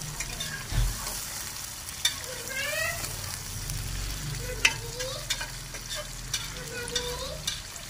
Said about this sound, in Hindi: तो अभी प्याजों में हम ना कलेजी को अच्छी तरह से जो है ना फ्राई कर लेंगे